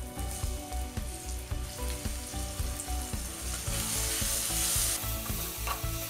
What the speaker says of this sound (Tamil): இதில் நம்ம 1/2 டீஸ்பூன் அளவுக்கு இஞ்சி பூண்டு பேஸ்ட் சேர்த்துக்கலாம்